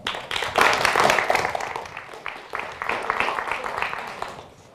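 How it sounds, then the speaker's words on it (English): Audience at a talk clapping for a speaker being welcomed on stage: a burst of applause from a modest crowd that swells, dips briefly and picks up again before fading out. "please, a warm applause for Mounir Samuel."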